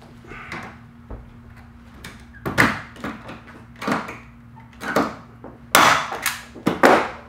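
A series of sharp rivet pops and clunks as a Sleekline track is riveted onto a Club Car golf cart, arriving as separate irregular bursts, close and fairly loud, with quiet pauses between.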